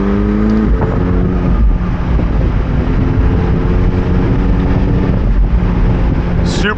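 A McLaren 720S Spider accelerates under paddle-shifted manual control, its engine note climbing in pitch with a clear gear change and rising again, loud and close from inside the cabin.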